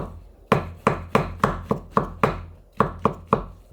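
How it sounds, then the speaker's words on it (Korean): A knife slices a shiitake mushroom thinly on the diagonal, about ten crisp, evenly paced strokes against a cutting board, close and clear with no talking. "표고버섯도 하나 넣을 거예요. 얇게. 사선으로 썰어주세요."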